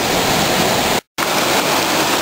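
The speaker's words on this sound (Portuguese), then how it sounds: "E virou uma cachoeirinha muito especial" A small waterfall spilling over a retaining wall near a river's source high in the hills gives a steady, loud, broadband rush of falling water, continuous and close, broken only by a brief dropout.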